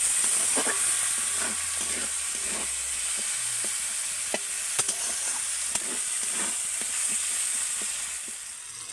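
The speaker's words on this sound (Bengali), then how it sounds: "এবার আমি এগুলোকে তেলের সাথে ভালো করে ভেজে নেব।" Chopped tomatoes and other ingredients fry in hot oil, giving a steady close sizzle and hiss with scattered crackles and pops from stirring throughout, no voices.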